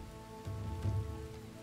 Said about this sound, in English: Rain's coming in again